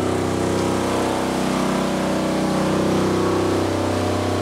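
A 10 kVA generator running steadily, a loud, close, even engine drone with a buzzing hum that holds without change throughout.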